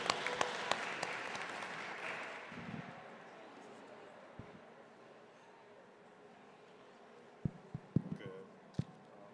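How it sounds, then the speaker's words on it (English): Applause from an audience at a closing event fills the start and fades over several seconds, followed by quieter room sounds and a few scattered taps or claps. "So everybody give a round of applause to Freddie Vasquez"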